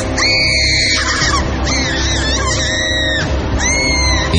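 Loud, overlapping screams used as a sound effect in a horror story, several shrill wailing cries rising and falling over a dense, rumbling backdrop across the whole stretch.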